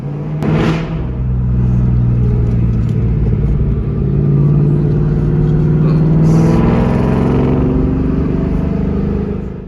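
Ford Mustang Mach 1 driving along, its engine a steady low rumble from inside the car that swells and eases with light revving, with no talk over it.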